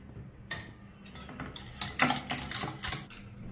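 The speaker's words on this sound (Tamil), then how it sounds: "இப்போ முட்டையை நல்லா அடிக்கிறோம் கொஞ்சமாக சால்ட்டு போட்டுட்டு நம்ம அடிக்கணும்" Eggs beaten with a little salt in a bowl make a quick run of close, clattering clinks and taps. The whisking starts and stops in uneven bursts and grows busier toward the end, with no voices.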